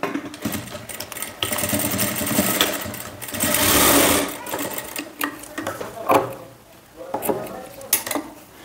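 An electric sewing machine stitches a boatneck blouse, running in rapid mechanical bursts with short pauses and clicks between them. The machine is close and clear.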